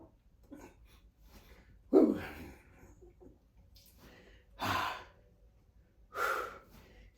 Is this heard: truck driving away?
no